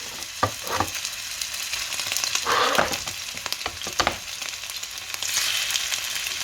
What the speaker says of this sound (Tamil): இப்போ ரச்சி போட போகிறேன் முதல் ரச்சியை பொறிச்செடுப்பேன்